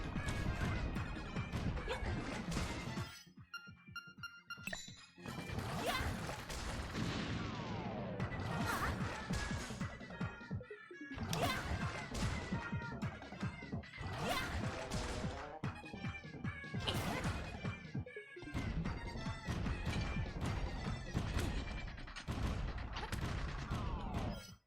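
Repeated bomb blasts and crashing impacts from the Legend of Zelda: Link's Awakening game, loud bursts coming one after another with brief quiet gaps between them.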